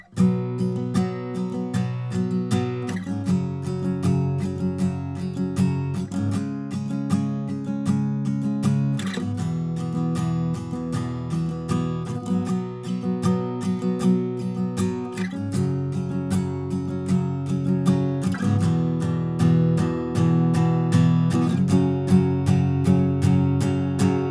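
Steady strummed acoustic guitar power chords in standard tuning, a quiet-chorus strumming pattern for a song, repeating in an even rhythm, loud and continuous, with chord changes every few seconds and no voices.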